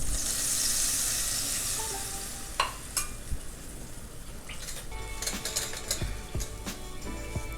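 Ghee heats in a cooking pan with a bright, steady sizzling hiss that is loudest at first, then settles under scattered clinks and scrapes of utensils against the pan.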